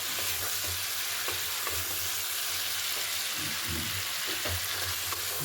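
Egg curry with cauliflower sautés in a hot pan with a constant dense sizzle, while soft stirring scrapes sound close up and nobody speaks.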